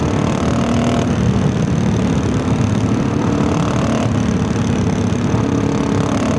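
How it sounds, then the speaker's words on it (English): A lightweight adventure motorcycle engine pulls hard from low revs in fourth gear at wide-open throttle, a steady, loud, dense drone with rumbling wind that holds throughout, with no voices. "So we are now in 4th gear, really low RPM, and I'm just gonna rip the gas wide open"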